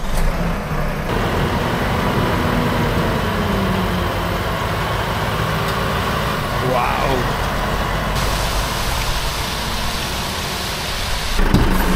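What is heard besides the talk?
Volvo FH16 780 truck driving, 17-litre engine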